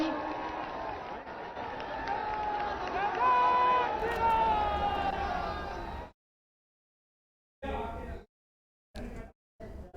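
A large crowd at Prime Minister Narendra Modi's rally in Prayagraj claps and cheers in a loud, sustained roar for about six seconds, then falls silent apart from a few brief bursts of noise.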